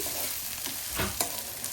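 Mature leaves, likely tamarind shoots, drop into hot oil and shrivel, giving a soft continuous sizzle with a couple of brief stirring scrapes, close and fairly quiet, without speech.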